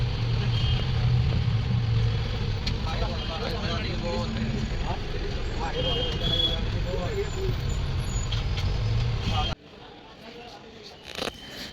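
A bus idles at a roadside stop, its engine a steady low rumble under passing road traffic, with hisses of air brakes, until the noise cuts away abruptly near the end to a quieter scene.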